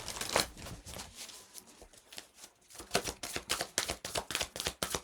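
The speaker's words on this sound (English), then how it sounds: "I'm just gonna shuffle." Cards are shuffled repeatedly nearby, a fast riffling flutter followed by a series of crisp, rhythmic riffles.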